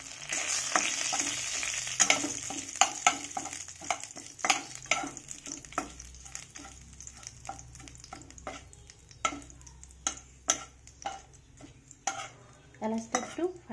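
Whole garam masala and bay leaves go into hot oil for a Bengali dal and potato dish. A soft sizzle runs underneath, with frequent clinks and scrapes of a spoon stirring in the pan at close range.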